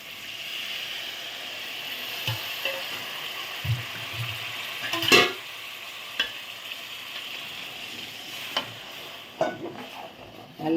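Fish masala curry cooks in a pan, a steady sizzle and bubbling broken by scattered scrapes and clinks of a spoon stirring, close and moderately loud.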